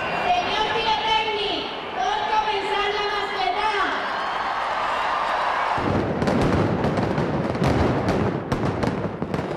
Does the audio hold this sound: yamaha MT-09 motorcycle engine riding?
no